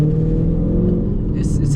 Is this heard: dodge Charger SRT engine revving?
yes